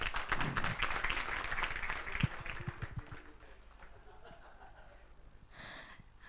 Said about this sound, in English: Please welcome him with an applause as well